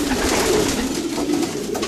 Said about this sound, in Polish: Tu są gołębie też od kolegi Wiosny